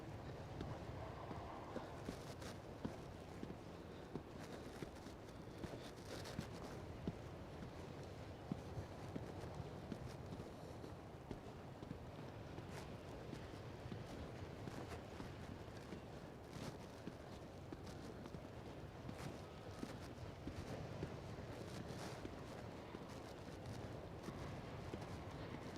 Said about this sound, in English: you guys could hear my footsteps in the sand